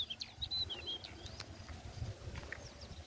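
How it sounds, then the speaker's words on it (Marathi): Small birds chirp in quick, high bursts on an early morning outdoors, fairly faint over a low rumbling background, with a few scattered calls later on. "पाखरांचं चिवचिवणं"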